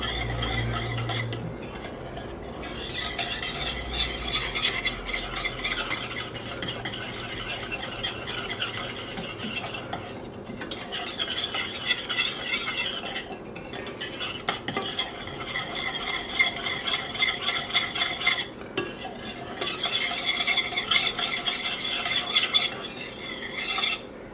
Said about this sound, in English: Get that stirred in and all melted and combined